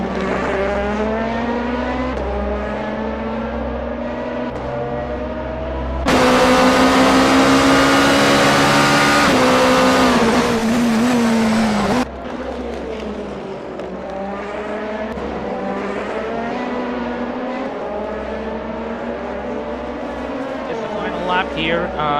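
Race cars on the final lap of a five-hour endurance race at Motegi, engines droning steadily under continuous commentary, with a louder, closer burst of engine roar through the middle before fading back.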